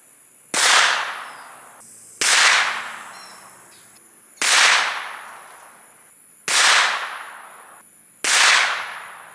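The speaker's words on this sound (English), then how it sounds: "count these Konig 110s out of the Beretta" Five sharp, loud gunshots from a Beretta 92x pistol firing Konig 110-grain jacketed hollow points off a barrel rest, evenly spaced about two seconds apart, each with a ringing decay, close and with no talk.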